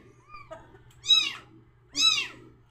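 Kittens being hand-fed milk meow loudly and close by, two long rising-falling cries about a second apart after a quieter earlier mew, with a low steady hum behind.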